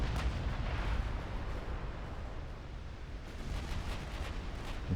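Battleship secondary guns firing in a naval combat video game, a continuous roar of overlapping heavy booms and rumbling blasts with no clear gaps.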